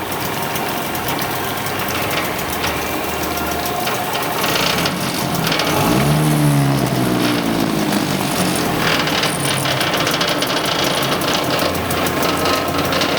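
A Toyota car engine, just started, idles steadily with a continuous mechanical hum and ticking, a brief rising whirr near the middle, heard close with no talking.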